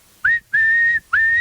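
A person whistles three sustained, clear tones, a short note, then a longer held one, then another, close and loud with brief silent gaps between.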